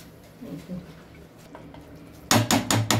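A metal lid set down on a cooking pot in a home kitchen, several sharp clattering knocks in quick succession near the end, loud and close after quieter kitchen background.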